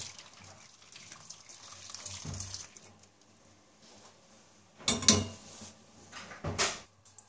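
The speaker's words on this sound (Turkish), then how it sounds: "Tencerede kalan suyumuzu da kabağımızın üzerine koyuyoruz." Leftover cooking water from a pot is poured over pumpkin pieces laid in a baking tray for a Turkish baked pumpkin dessert, heard as quiet handling noises followed by two short, close splashing bursts.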